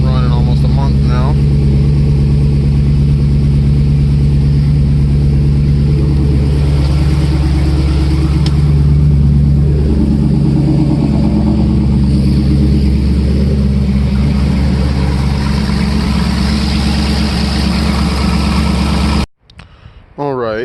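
A car engine that has sat unused for almost a month runs in a steady, loud idle throughout, with a low rumbling drone, then briefly cuts out near the end.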